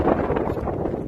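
Wind buffets a microphone outdoors, a low rumbling gusty roar that stays constant through the brief moment with no voices.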